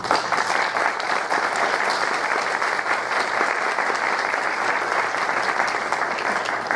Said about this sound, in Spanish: les pido a todos ustedes recibamos con un fuerte aplauso